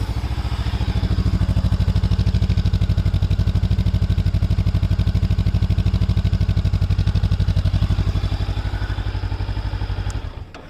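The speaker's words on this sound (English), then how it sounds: "Now let me just show you how the exhaust note is, and you'll be able to hear it." A Honda CB500X with a twin-port exhaust runs at a steady idle close by, a loud, bassy, evenly pulsing thump that holds for about ten seconds before cutting off, with no voices.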